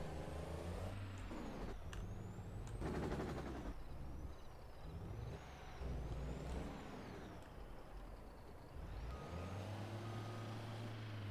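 A big truck in the farming game Farming Simulator 22 straining while stuck, its low engine rumble surging and dropping with bursts of air-brake hiss and a sharp clatter, loud and close throughout.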